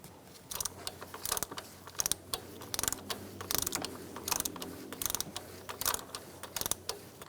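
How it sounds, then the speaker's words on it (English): A ratchet tightens a valve cover bolt on a 2012-2018 Ford Focus 2.0L four-cylinder, giving close, quiet bursts of rapid clicking in uneven strokes with short pauses between them. "And tighten your bolt."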